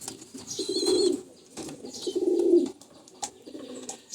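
A large male Olympic pigeon coos in a breeding loft, two deep drawn-out coos close by with softer rustling and a few faint clicks between them.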